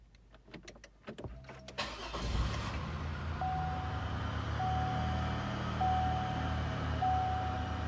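A Pontiac Aztek with push-button start: a few soft clicks from unlocking and pressing the brake, then the engine cranks and catches into a steady low idle as a warning chime beeps at regular intervals.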